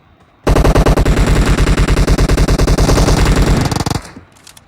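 Sustained automatic machine gun fire from a Battlegrounds Mobile India match, one loud, close burst of rapid, evenly spaced shots lasting about three and a half seconds before cutting off.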